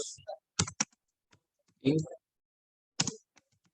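Typing on a computer keyboard, a few sparse clusters of sharp clicks and key taps recorded up close, separated by quiet pauses.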